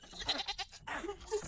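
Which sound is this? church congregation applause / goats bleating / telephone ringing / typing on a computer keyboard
goats bleating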